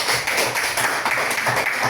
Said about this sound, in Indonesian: Oke, tepuk tangan untuk April.